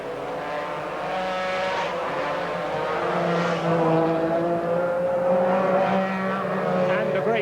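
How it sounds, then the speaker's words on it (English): MG Metro 6R4 race cars roar past on a street circuit at the Birmingham Superprix, engines loud and rising as the pack streams by, with a commentator talking over the noise throughout. "had Tony Pond through at the front as the pursuit comes through the Shell corner."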